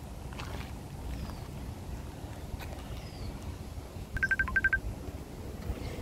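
A mobile phone rings with an incoming call during a short outdoor hike, two quick bursts of a faint electronic trilling tone over wind and low background noise.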